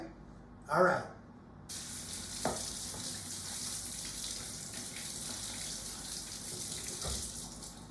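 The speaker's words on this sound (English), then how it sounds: "For your black olives, you're always going to want to rinse them" Tap water running steadily into a kitchen sink while canned black olives are rinsed in a strainer, a continuous hiss with a brief clatter near the start.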